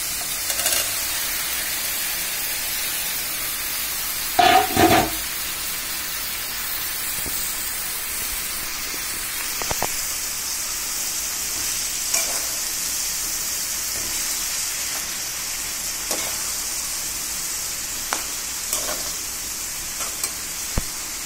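Taro stolons (kochur loti) fry in a pan with a steady, close sizzle that runs throughout, broken by a brief clatter of stirring near the five-second mark and a few softer knocks later.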